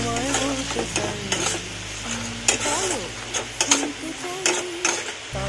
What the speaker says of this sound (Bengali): এরপর এতে আমি কেটে রাখা টমেটোগুলো দিয়ে দিই।